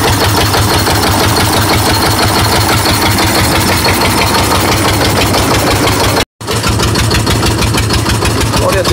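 A small boat's engine runs steadily on the Amazon near the Ipixuna bay, a loud, continuous close-up drone with a rhythmic pulse that drops out for a split second before resuming.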